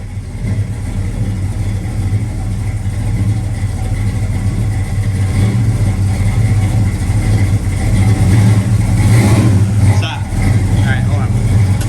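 A 1968 Pontiac GTO restomod engine runs in a garage with a steady, loud, low rumble that swells slightly toward the end, while people talk over it.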